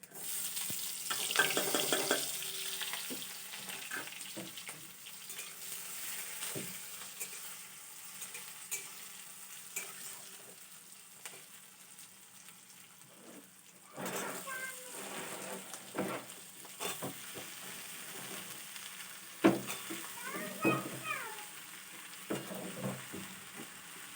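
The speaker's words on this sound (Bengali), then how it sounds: "ফোড়ন দিয়ে দিলাম" Whole spices crackle and sizzle in hot oil for a Bengali phoron tempering, a steady hiss with scattered pops and spoon clatter against the pan, close by with no talk.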